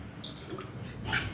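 About 100 ml of water poured into a curry masala and yogurt mix for a meal maker curry, a soft, quiet trickling splash close by with no talk.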